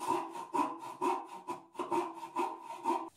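A hand saw cuts through wood while a toilet cistern is being replaced, with steady back-and-forth strokes, about two per second, close and fairly quiet, with no talk.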